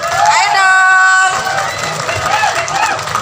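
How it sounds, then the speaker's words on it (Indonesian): Audience at a school reunion entertainment show cheering and whooping in response to a call for applause, a lively crowd noise with a sustained shouted voice near the start and clapping mixed in. "ayo dong kasih aplaus"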